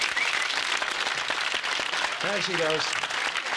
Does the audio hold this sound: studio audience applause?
yes